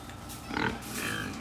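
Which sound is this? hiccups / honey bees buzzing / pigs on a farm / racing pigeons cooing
pigs on a farm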